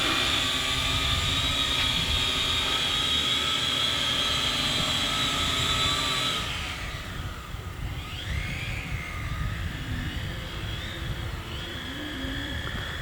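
Flytec TY-T1 FPV camera drone hovers over a picnic table before landing, a steady loud whine of small propellers for several seconds that drops in intensity, then wavers more unevenly as it descends.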